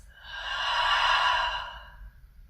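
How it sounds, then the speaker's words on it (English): One slow, audible breath during a self-compassion yoga session, drawn in through the nose and released through the mouth as a soft, airy sigh that swells and fades over a couple of seconds, close and alone. "you could also start with a few breaths in through your nose and out through your mouth"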